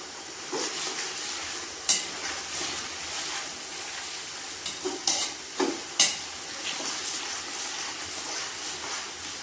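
Biryani sizzles steadily in a pan while being stirred, with a constant frying hiss and occasional scraping clinks of the spoon against the pan.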